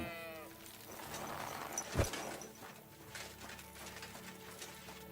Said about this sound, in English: It looks like you're tending your sheep.